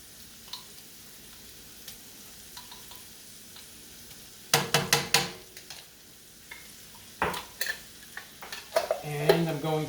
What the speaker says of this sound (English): Okay, so I'm going in with the garlic.